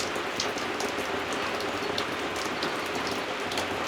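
Heavy rain pouring steadily at an off-grid wilderness homestead, a dense loud hiss of drops drumming on surfaces with no letup.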